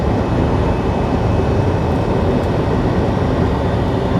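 A Union Pacific freight train rolls past, heard from a moving vehicle on the road as a loud, steady, broadband rumble with no breaks.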